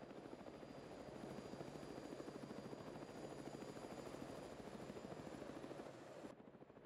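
Steady rotor chop of a helicopter in the military video game Arma 3, loud and continuous as if from inside or right beside the aircraft, fading slightly at the very end.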